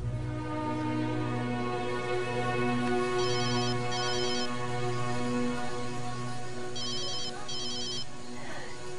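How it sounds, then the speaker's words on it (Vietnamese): A telephone rings in a Chinese drama film, its repeated electronic trill sounding in two short bursts and then two more over a steady bed of sustained music. "Điện thoại đang rung."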